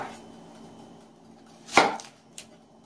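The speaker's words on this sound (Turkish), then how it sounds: "soğanlardan başlayalım doğrayarak" A knife chops through onion for a Turkish pea and potato stew, giving one loud, crisp chop followed by a fainter second cut, close up in a quiet kitchen.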